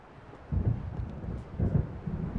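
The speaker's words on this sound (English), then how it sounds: "It seems there's a storm coming." Low rumbling thunder of an approaching storm in the video game Alan Wake, two deep swells rolling in about a second apart over a steady wind-like ambience by the sea.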